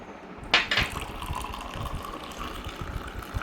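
Water is poured onto a drop of golden elixir, starting with a sharp splash, then settling into a steady, moderately loud trickling flow that runs on alone.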